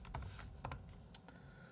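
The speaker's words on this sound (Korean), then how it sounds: "키보드 이름은 이제 그 한성 무접점 오피셜 마스터." Bursts of typing on a Hansung Topre-style Bluetooth 5.0 keyboard, the Official Master model: irregular close clicks and clacks, a few keystrokes spread across a quiet moment with one sharper stroke standing out.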